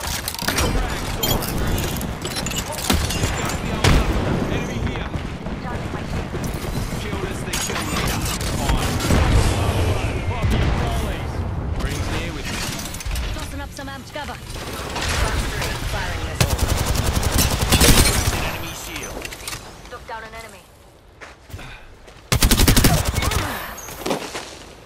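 Rapid bursts of video game gunfire with machine-gun fusillades and mechanical clatter, loud and dense throughout, with occasional booms and a voice talking over parts of the action.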